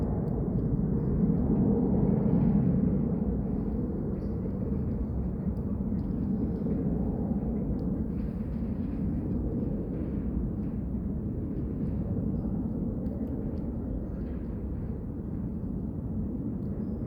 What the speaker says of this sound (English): We have airport in Winnipeg, so sometimes, often, you can hear planes